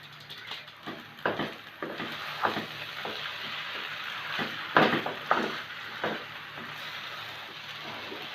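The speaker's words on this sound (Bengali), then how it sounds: "আমার সিদ্ধ করা নুডলসগুলো। ভালো করে মিশিয়ে দিতে হবে।" Boiled noodles with spices being stirred in a pan for Chinese chow mein, a soft steady sizzle with irregular scraping clacks of the utensil against the pan, close and moderately quiet.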